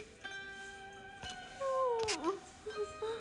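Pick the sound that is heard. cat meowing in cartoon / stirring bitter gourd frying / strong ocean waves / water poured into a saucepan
cat meowing in cartoon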